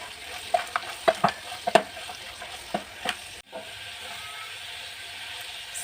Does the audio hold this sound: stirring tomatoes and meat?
yes